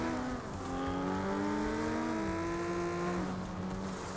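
Engine of a car in the FlatOut racing game straining as its wheels spin, a steady whining rev that rises and holds, loud and continuous with no one talking.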